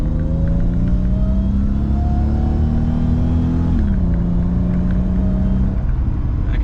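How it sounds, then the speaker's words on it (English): A supercharged V6 engine in a high-mileage Mercedes-AMG C32 pulls hard under acceleration, its steady drone climbing in pitch alongside a thin rising supercharger whine, continuous and close with no talking. "I can definitely hear the supercharger kicking in"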